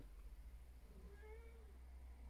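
A domestic cat lets out a single faint, drawn-out meow over a low steady room hum, quiet and somewhat distant, with no one talking.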